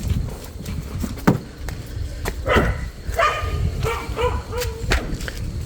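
Several dogs bark in short, irregular bursts at a family home in Suriname, some yips close and others a little farther off, over a busy background with scattered knocks.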